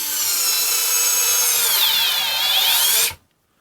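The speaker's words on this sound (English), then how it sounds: "see how the Denali does running these screws in" Denali battery-powered screwdriver with a magnetic tip drives a screw into wood, a loud steady motor whine with rising pitch as the fastener bites and strips, ending abruptly when the motor stops; no talking.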